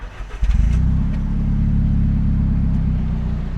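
An Alfa Romeo car pulls away on a twisty road, its engine rising to a steady, loud drone heard from inside or close by, with no voices.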